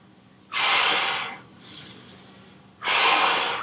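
Two strong, breathy exhalations during a strength exercise, with a softer inhale between them, each lasting about a second and heard up close without talking.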